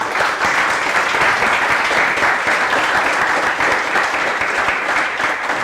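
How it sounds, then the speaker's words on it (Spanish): Steady, dense audience applause fills the room for guest Matías at a sustainable design conference, a loud continuous wash of clapping with no pause throughout. "les quería pedir un aplauso para Matías"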